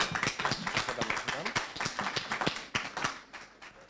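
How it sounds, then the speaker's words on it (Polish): Applause from an audience at a housing innovation conference, a short burst of scattered hand claps mixed with talking, fading toward the end. "Prosimy o brawa"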